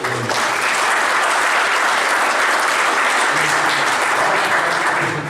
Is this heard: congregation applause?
yes